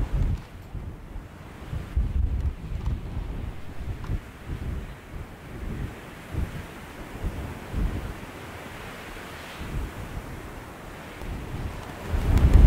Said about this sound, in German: Windgeschwindigkeiten zwischen 40 und 70 km/h machen ein Fischen heute unmöglich.